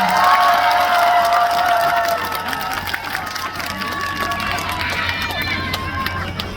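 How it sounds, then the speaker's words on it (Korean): A festival concert crowd claps and cheers continuously, with shouts and whistles rising over the sustained applause, at the Gyeongju Sori Festival. "잘했다고 생각하시면 큰 박수 한번 치겠어요"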